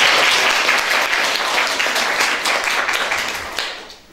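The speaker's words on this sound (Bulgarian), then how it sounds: "аплодисменти не пестете" An audience at a children's stage show claps heartily, a busy, close burst of many hands that stays strong for several seconds before tapering off near the end.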